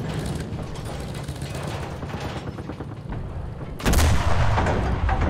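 A battle in the Enlisted video game's Battle of Berlin: steady mechanical rattling and gunfire fill the scene until a sudden, loud, booming explosion erupts near the end and keeps rumbling.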